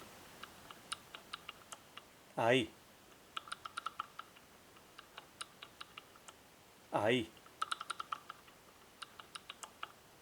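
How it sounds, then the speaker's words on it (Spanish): A LA GARD 2270 safe combination lock being picked gives off small, sharp, fairly quiet clicks in an irregular run, while a voice speaks briefly twice in between. "Ir escuchando los clics agudos y va a llegar un momento en que se oyen un poco más grave."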